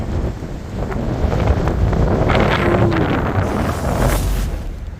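Strong wind gusting at an abandoned mine, roaring steadily against a moving wall with heavy rumble and microphone buffeting throughout, loud and close.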